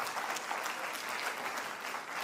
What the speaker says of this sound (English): Let us acknowledge her presence with a gracious round of applause.